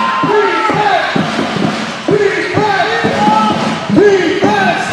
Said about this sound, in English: And that has brought the crowd to their feet.